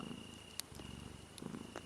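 A cat purrs steadily by a fireside, a soft low rhythmic rumble that continues throughout at close range, with a few faint clicks over it and no talking.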